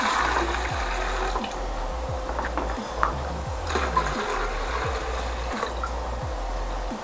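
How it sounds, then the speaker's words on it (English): Water pours steadily into a DIY USB-powered portable fridge, a continuous splashing, gurgling stream with no talk. "First, fill it with water."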